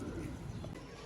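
Ferozpuri pigeons cooing faintly in a short low murmur, with soft rustling background noise.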